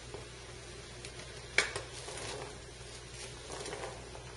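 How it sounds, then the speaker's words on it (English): Cranberry chutney of fruit and onions bubbles softly in a pan on the stove, a quiet steady sizzle with a few light clinks and stirring taps close by. "I'm going to turn it down to a simmer now, and then add all of this beautiful fruit, as well as the onions"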